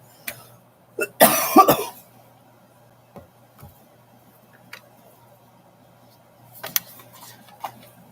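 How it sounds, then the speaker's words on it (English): A single harsh cough up close, followed by a few faint clicks and small sounds in a quiet room. "I have a cough because it's been muggy."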